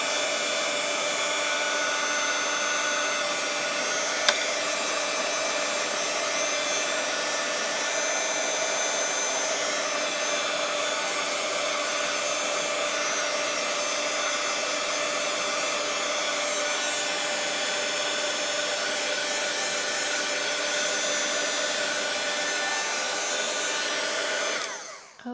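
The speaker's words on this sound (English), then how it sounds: "And then we will heat up our powder." Steady, loud blowing hiss of a craft heat tool melting embossing powder on a card, running unbroken for about 25 seconds with no talk, then cutting off at the end.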